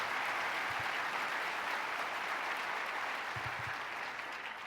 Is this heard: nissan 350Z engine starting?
no